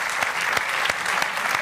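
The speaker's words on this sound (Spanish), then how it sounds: "vamos a darle un fuerte aplauso a estos a cuatro" An audience at a Canarian folk music show claps in strong, continuous applause, dense and close, with a few louder peaks.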